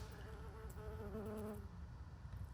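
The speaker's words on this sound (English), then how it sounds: "they're also a haven for bees and butterflies. Quite the buzzing paradise." Bees hum around purple allium blooms in a garden bed, a close, continuous buzz whose pitch wavers as they move, loudest in the middle and easing toward the end.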